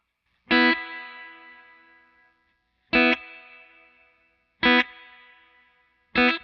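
Clean electric guitar chords played through an LPD pedal reverb effect, four separate strummed hits a couple of seconds apart, each with a bright attack and a long shimmering tail fading to silence.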